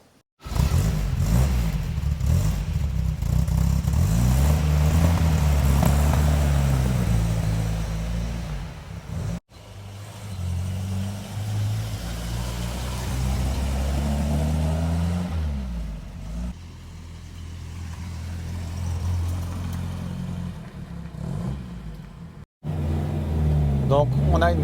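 A 1968 MGB Cabriolet on a road drive, its engine droning and rising in pitch as it accelerates, with brief drops between gear changes, loud and close, with someone talking over it.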